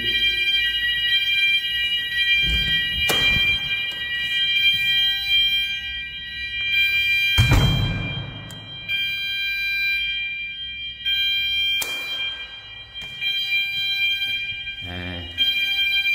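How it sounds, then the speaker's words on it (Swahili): A building fire alarm system sounds during a test, a loud high electronic tone that runs throughout, with bursts of bangs and noise at intervals and occasional faint voices. "Fire alarm system testing."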